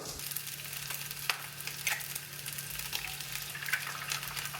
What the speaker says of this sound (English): Let it cook for a second and then break the yolk and start scooting it around and scrambling it a little bit.